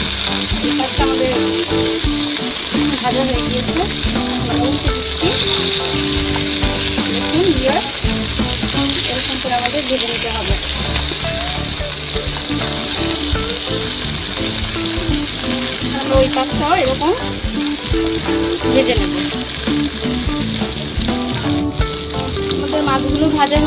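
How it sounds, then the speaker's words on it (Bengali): Poa fish frying in a pan of hot oil, a steady, close sizzle running unbroken throughout, with a tonal musical bed underneath. "মাছগুলো ভাজা হয়ে গিয়েছে দোনো পাশে"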